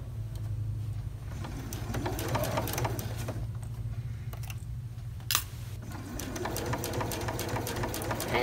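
A sewing machine sews a zipper pouch, its motor humming in a low steady purr with rapid needle chatter, starting and easing in bursts, with a short sharp click in the middle.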